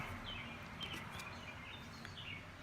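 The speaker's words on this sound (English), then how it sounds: "Oh, those birds are they're just beautiful. I love the sound of those things." Faint, high bird chirps come and go over a steady background hiss, distant and scattered rather than a continuous song.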